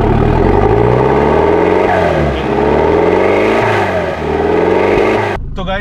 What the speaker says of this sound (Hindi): अभी मैं गाड़ी स्टार्ट कर रहा हूँ और जैसे मैंने मारा सेल्फ, देखो कैसे सांस ले रहा है इंजन घट घट